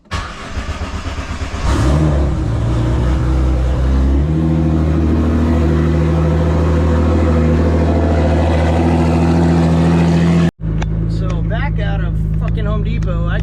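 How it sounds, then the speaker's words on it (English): A Nissan GT-R R35 fires up and settles into a steady, loud idle with a strong low hum; the engine cuts off abruptly near the end, and someone talks over the running engine. "let me get the car turned on"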